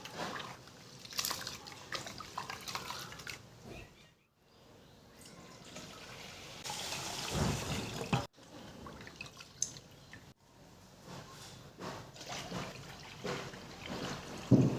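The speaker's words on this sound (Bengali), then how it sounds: "এবার জল দিয়ে খুব ভালো করে দু থেকে তিনবার পরিষ্কার করে নিচ্ছি চালগুলোকে" Rice grains are washed by hand in water, giving a continuous watery swishing and sloshing with drips and trickles, interrupted by a couple of brief pauses.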